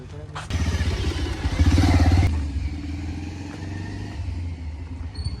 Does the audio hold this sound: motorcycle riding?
yes